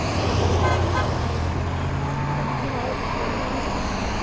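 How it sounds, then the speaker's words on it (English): Passing cars honk at a strike picket line beside a road. One sustained, low car horn blares for about two and a half seconds over steady traffic noise, and then the road hum continues alone. "as they're driving by, they're honking the horn"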